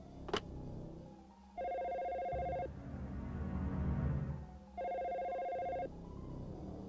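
A telephone rings in the survival horror game Dino Crisis while paging, sounding two long electronic bursts with a pause between them, over low background hum.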